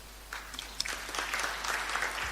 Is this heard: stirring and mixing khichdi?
no